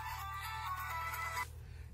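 A phone ringtone for an incoming call plays a repeating electronic melody over a steady low hum, fairly quiet, then cuts off abruptly after about a second and a half.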